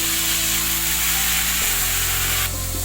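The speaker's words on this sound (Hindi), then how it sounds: "ये मेरी एक आधा पाव दही है जो मैं इसमें ऐड कर रहा हूँ" Yogurt hits roasted garam masala in a hot pan and sets off a loud, steady sizzle, a dense continuous hiss with a slight shift in tone partway through.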